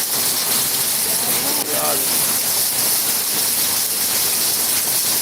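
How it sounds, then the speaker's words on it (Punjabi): Dense, steady rain mixed with hail hisses and patters loudly on surfaces, with a voice briefly speaking underneath the constant downpour. "ਬਹੁਤ ਗੜੇ ਆ ਦੇਖੋ"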